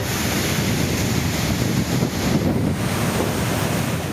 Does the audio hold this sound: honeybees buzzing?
no